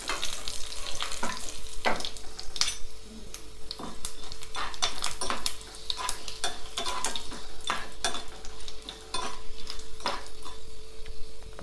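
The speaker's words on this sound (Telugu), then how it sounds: "ఇప్పుడు మిరపకాయలు వేగినాయి" Dried red chillies fry and sizzle in hot oil as a tempering for a cucumber pickle, a steady crackling hiss with repeated stirring scrapes and occasional utensil clinks, close and continuous without talk.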